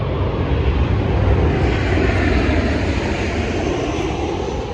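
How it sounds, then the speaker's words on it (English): A propeller-driven or jet airplane passing overhead gives a loud, continuous engine roar that swells slightly and then holds steady, with no talk over it. "there's a plane"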